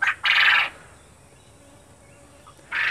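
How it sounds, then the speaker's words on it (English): Caged quail call loudly and close, with two harsh bursts at the start and another returning near the end, separated by a quieter gap. "I can't hear myself over these birds going off."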